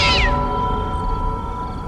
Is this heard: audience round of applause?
no